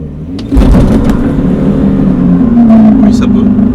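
A BMW 325ti diesel revs hard for a burnout, engine noise jumping sharply and holding at a loud, steady drone with a rising tone near the end, a voice briefly audible underneath.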